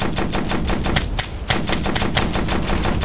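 Sustained automatic gunfire in the military video game Operation Flashpoint rattles without pause. Loud, rapid shots come in a steady rhythm with a brief gap midway.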